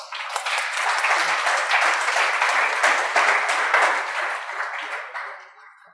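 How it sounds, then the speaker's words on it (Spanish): Warm applause from a seminar audience welcoming a speaker, full clapping that swells and then tapers off near the end. "Recibámoslo con un aplauso"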